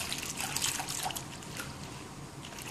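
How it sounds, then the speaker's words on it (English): Water is shaken with washing powder to work up a lather, giving a wet splashing and sloshing with small drips, strongest at the start and then settling into softer liquid movement, with no voices. "So I will be putting washing powder in it, giving a nice wash and a shake so that much lather is formed."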